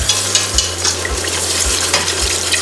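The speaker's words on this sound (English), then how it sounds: "give it a good whisk as you're adding the milk" Full cream milk being whisked into butter in a hot pan for mac and cheese, a loud close sizzle with a rhythmic whisk scraping the pan about twice a second, no voices.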